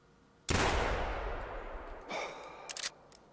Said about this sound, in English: let's go ahead and take our first shot with it and see what it sounds like